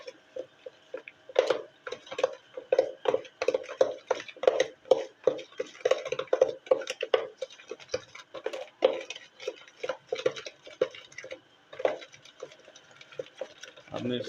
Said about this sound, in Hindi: अच्छी तरह मिक्स कर लें ज़रा।